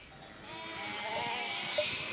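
Sardinian razza sarda sheep bleat on the island of Sardinia, a wavering drawn-out call rising over a steady outdoor background, moderately close.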